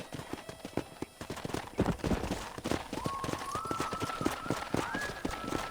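Horse hooves clip-clopping in a steady trot in Red Dead Redemption, close and rhythmic, with a faint in-game voice and a thin tonal whistle entering partway through.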